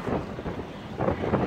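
Wind buffets the microphone in low, rumbling gusts on a cold night of about 40 degrees, a short burst of rough noise that swells and fades.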